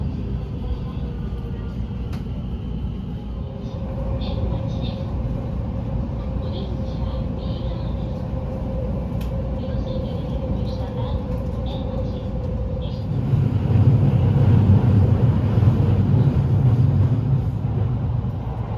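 Steady low rumble of a moving train ride through the Arashiyama area of Kyoto, Japan, with a continuous hum that swells louder toward the end as the carriage runs on, faint talk under it.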